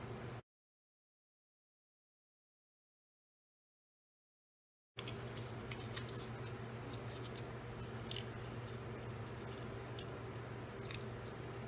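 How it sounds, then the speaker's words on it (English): A craft cutter slices a hole in a paper card for an ice bucket pop-up card: close, steady scratchy cutting that starts abruptly after a few seconds of silence. "we're going to take a cutter and cut a hole for this to go through"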